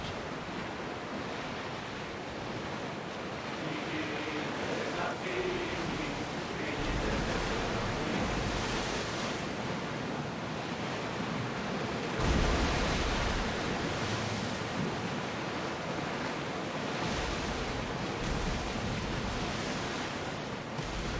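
Open sea in Assassin's Creed Odyssey, a broad wash of waves and wind rolling steadily at moderate level, with gentle swells and a stronger surge partway through.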